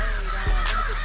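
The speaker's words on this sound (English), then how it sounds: "These birds are going crazy." Agitated crows caw loudly and close by, with several harsh overlapping calls packed into about a second.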